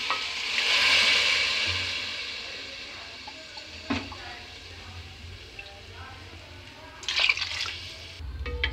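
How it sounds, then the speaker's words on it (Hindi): Water pours from a cup into a pot of vegetables cooking for soup, a steady splashing hiss with a couple of sharper clinks and stirring knocks near the middle and end. "मैं कप से डाल रही हूँ।"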